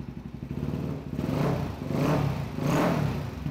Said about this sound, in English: The bike is running strong.